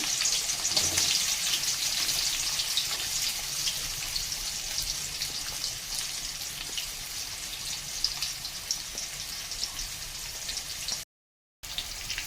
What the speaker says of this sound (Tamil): எண்ணெய் ஊற்றினதுக்கப்புறம் வெங்காயம் போடுங்க